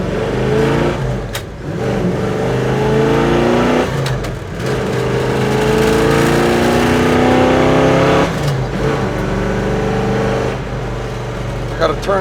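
A 1972 Chevrolet Chevelle SS accelerating hard through several gears from first, loud engine revs climbing and dropping at each shift, heard from inside the car in traffic with occasional talk over it.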